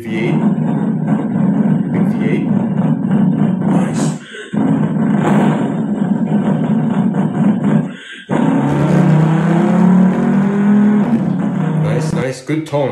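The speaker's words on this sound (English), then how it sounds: "Oh, big V8." A big V8 car engine roars and revs in deep, loud pulls, cutting out briefly between bursts, then climbs again in a rising sweep near the end.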